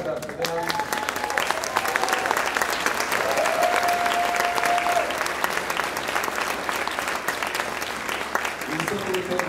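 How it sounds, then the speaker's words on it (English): A school winter concert audience applauds the band booster parents with sustained, dense clapping from many hands, steady throughout, with a few voices and cheers mixed into the crowd noise. "let's clap it up for them"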